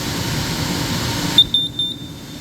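Four short, high electronic beeps from a carbon monoxide detector in test mode, quick and sharp, after a steady hum of background noise abruptly cuts out.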